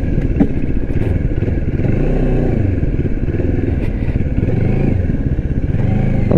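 A Moto Morini X-Cape 650X adventure tourer being ridden on the road, its engine droning loud and steady with small rises and dips in pitch and some wind clatter. No voices.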